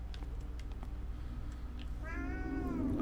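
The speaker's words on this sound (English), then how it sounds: "Oh, that was my cat." A pet cat named Cougar lets out a single drawn-out meow near the end, close and clear over a low background hum, after a few faint knocks.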